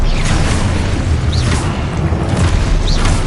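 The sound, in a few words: spell explosions in the video game Hogwarts Legacy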